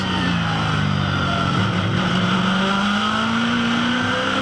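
A 289 V8 touring car race engine roars loudly and continuously, its pitch slowly climbing as it accelerates.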